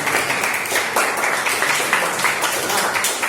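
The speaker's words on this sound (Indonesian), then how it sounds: "Jadi kita beri apresiasi untuk kita semua dengan tepuk tangan ya." A classroom group applauds together, a dense, even patter of many hands clapping at once that holds steady and fairly loud from start to finish.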